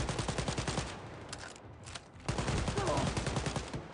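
Rapid automatic gunfire in the shooter game Wolfenstein Youngblood rattles in dense, fast bursts, breaks off briefly, then resumes in a second sustained volley, loud and close.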